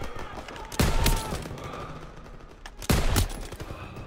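Machine-gun and rifle fire from the World War II shooter game Call of Duty WW2, with two loud, sharp bursts of shots that stand out over a busy background of battle noise.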